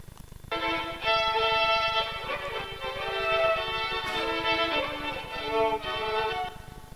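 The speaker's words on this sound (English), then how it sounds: "And the separate sound for violin." Solo violin separated out of a mix with a dog by audio source separation, playing sustained bowed notes with a rich, steady tone from about half a second in, fading near the end.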